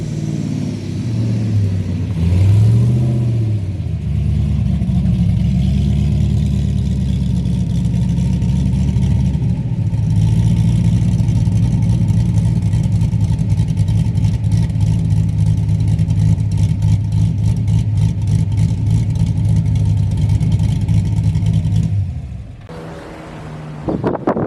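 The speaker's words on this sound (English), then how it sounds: "I'm gonna go ahead and park it for now." A Chevrolet Blazer engine drones steadily at mid pitch while driving in to park, rising briefly early on, then holding a constant close hum before cutting down at the end.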